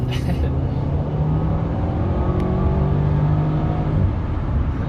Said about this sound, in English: I miss doing pulls and going full throttle right now.